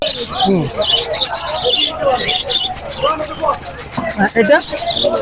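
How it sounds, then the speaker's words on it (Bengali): Chirping lovebirds, including white adult lovebirds, and budgerigars at a bird market in Mirpur 1, with many bright calls overlapping continuously as people talk and bargain nearby. "এটা একটা pair new adult white lovebird"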